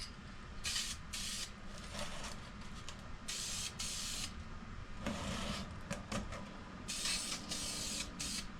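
Several bursts of aerosol spray paint laying a light first coat on a race car body panel, short and long hissing passes in an irregular rhythm, close and fairly loud over a low background rumble.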